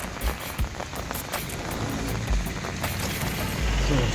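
Heavy rain from a Kalbaishakhi storm in Kalahandi, Odisha, patters steadily on a surface, with scattered low thumps and some background noise mixed in.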